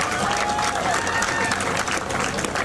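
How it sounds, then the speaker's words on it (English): Crowd applause at a fire department honor team ceremony in Escondido, steady, dense clapping sustained for nearly three seconds with a faint tonal whistle and murmuring voices underneath. "Let's give it a round of applause."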